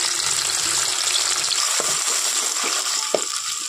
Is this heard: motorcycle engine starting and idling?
no